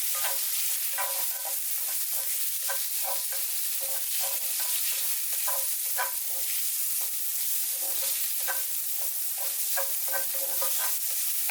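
Shrimp stir-fried in a pan sizzle steadily while a utensil scrapes and taps the pan in quick, irregular strokes, close up with no talking.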